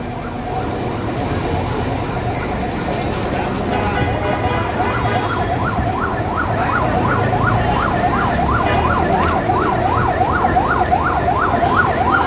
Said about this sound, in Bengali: শুধু একমাত্র অ্যাম্বুলেন্স অ্যাম্বুলেন্সকে যেতে দেওয়া হচ্ছে